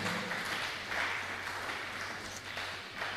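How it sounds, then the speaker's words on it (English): Faint, steady applause from an audience welcoming someone speaker to the microphone at a youth economic event, a soft continuous wash of clapping heard from a distance. "Join me with a clapping ovation"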